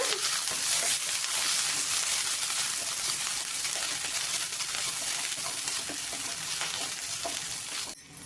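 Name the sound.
sautéing onions and green chillies in a pan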